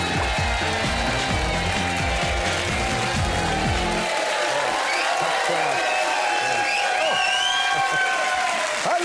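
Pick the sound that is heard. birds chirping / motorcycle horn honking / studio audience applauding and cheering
studio audience applauding and cheering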